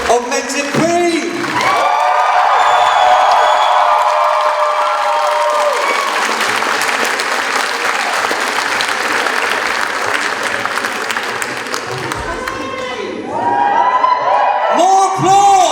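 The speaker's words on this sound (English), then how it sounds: "Thunderous round of applause" Loud applause and cheering from an audience at a Kitacon convention awards ceremony, a dense sustained wash of clapping and whoops rising after a short shout and lasting about ten seconds, with voices calling out over it near the end.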